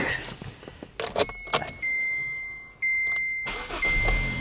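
Keys jangle and clicks sound, then a car engine cranks and starts with a whine, steadying to an idle after a brief pause and second start.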